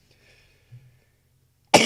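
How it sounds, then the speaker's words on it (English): A single harsh cough bursts out close to the microphone at the end, following near-silence with only a faint murmur of low sound before it. "Sorry about the coughing."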